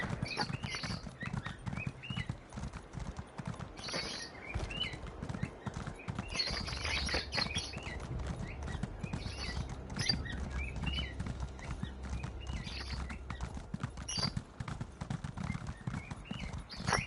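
Horse hooves clip-clopping in the online role-playing game The Elder Scrolls Online, a steady rhythmic trot running throughout at moderate level with faint bird chirps in the background.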